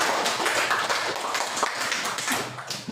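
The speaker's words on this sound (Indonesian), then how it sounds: "Tepuk tangan dulu." Dense, steady clapping from a classroom of hands, a bright crackling patter sustained for a few seconds without pause.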